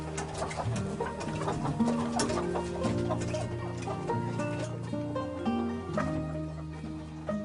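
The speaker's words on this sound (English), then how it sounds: "The hens are turning in now, all going home to roost." Hens clucking as they settle in to roost, a dense, steady chorus of overlapping clucks and murmurs from a whole flock close by, with no voices over it.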